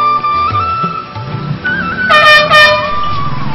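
A loud vehicle horn honks in a couple of blasts, sustained tones over busy street noise and engine rumble.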